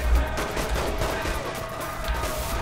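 Pistol gunfire in the video game Saints Row: The Third crackles in a dense, steady barrage of shots, loud and continuous over a busy game soundscape.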